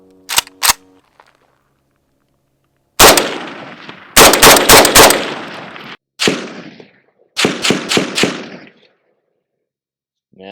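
Rifle shots from a 7.62x39 AK fired downrange: sharp loud cracks in quick bursts, a pair, then clusters of three to four rapid shots separated by silences, with a thick echoing tail.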